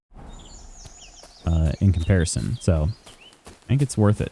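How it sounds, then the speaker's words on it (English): Birds chirp in the woodland of the video game Kingdom Come: Deliverance II, light scattered calls clearest at the start before someone talks over them. "just you listen to the birds chirping"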